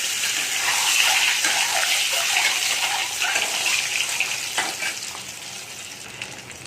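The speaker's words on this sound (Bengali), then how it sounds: "ডিমগুলো একটু লাল লাল ভাজা হয়ে গেল।" Eggs frying in hot turmeric-tinged oil in a kadai for egg curry, giving a loud, steady hissing sizzle that stays fairly even from start to finish, with no talk.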